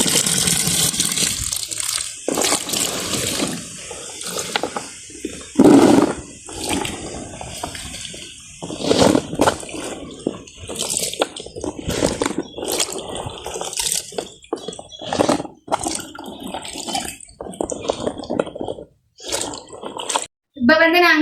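Green chillies are rinsed in a bowl of water, giving intermittent splashing and dripping between stretches of a person talking.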